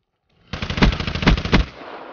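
A rapid automatic burst of gunfire from Black Ops 3 in a Search and Destroy match, loud and close, running for about a second and a half with a few heavier shots punching through before it cuts off.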